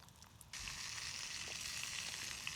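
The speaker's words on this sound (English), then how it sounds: "Don't know if you can hear in the background, them sausages are going for it." Sausages frying in a pan at a wild campsite on St Abbs Head, a steady dense sizzle that starts abruptly after a quiet moment and carries on fairly loud, with no one talking.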